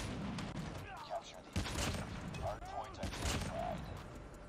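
Arctic 50 rifle gunfire in the Call of Duty Mobile video game, a dense busy spell of several sharp shots and bursts at uneven intervals over ongoing in-game noise, with faint speech-like chatter mixed in.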